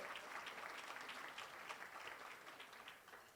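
A round of applause at a hotel reception in Bangkok, many hands clapping in a fairly quiet, distant wash that stays steady, then slowly tapers off toward the end.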